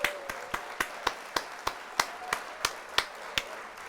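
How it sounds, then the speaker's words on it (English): A clapping sound effect played during a livestream: single sharp claps at an even, slow pace of about three per second, heard on their own without any talk. "So let's hit the old applause there."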